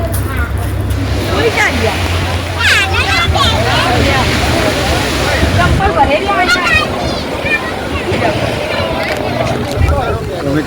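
On the seashore at Dwarka, wind buffets and waves wash in steadily beneath a crowd of voices chattering nearby.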